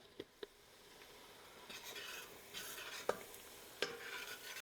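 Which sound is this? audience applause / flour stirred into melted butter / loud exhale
flour stirred into melted butter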